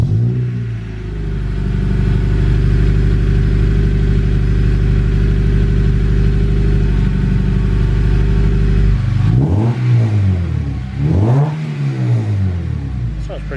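A Honda Civic EP3 running through a newly fabricated twin-tip exhaust muffler inside a shop: a loud, deep steady engine drone, then two rising and falling revs, with a person talking over it.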